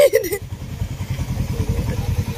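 A motorcycle pulls away, its engine a close, rhythmic mid-pitched putter and rev lasting a couple of seconds after a brief voice at the start.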